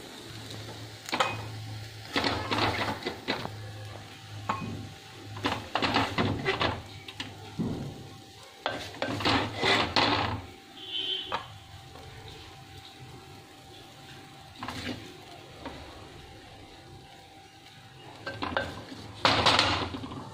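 Mushroom and drumstick leaf fry scooped into a serving bowl makes intermittent clinks and scrapes of utensils on pots and dishes, close and fairly loud in bursts with quiet gaps between.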